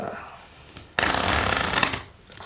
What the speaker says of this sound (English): whether it be giving the deck cuts or giving the deck some shuffles